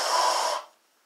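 A person blows their nose hard after a neti pot saline rinse, one short breathy nasal blast lasting about half a second, then fading to quiet.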